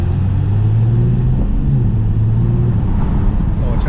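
Kia Stinger GT2 twin-turbo V6 heard from inside the cabin, a loud, steady low engine drone with a rising and shifting tone under accelerating road rumble.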